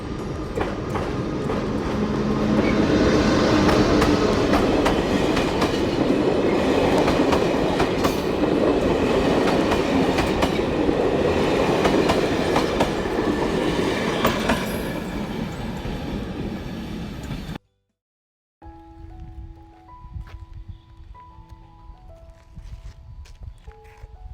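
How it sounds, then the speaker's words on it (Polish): A Slovak railways train hauled by a Skoda locomotive rolls steadily past up close, loud rumble and clickety-clack of wheels over rail joints sustained for most of the stretch before cutting to quieter ambient noise. "Tak, pociąg kolei słowackich."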